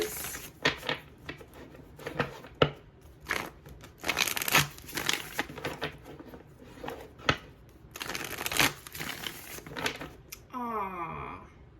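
Tarot cards shuffled by hand in a run of crisp riffling and flicking bursts, steady and close, then a short bridge-like cascade at the end; no talking over it.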